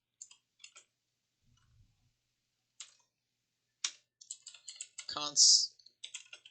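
Scattered keystrokes on a computer keyboard while code for a Discord.js bot is entered: sparse, close, quiet clicks in short clusters with gaps between them, ending in a denser flurry of typing.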